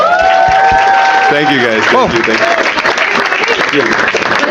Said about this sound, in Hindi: एक बार बसीर के लिए ताली बजा सब लोग